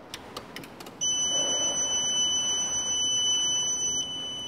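A Growatt hybrid inverter sounds a steady, piercing electronic beep while being switched off. The tone holds for about three seconds, then cuts out, with a few faint clicks before it.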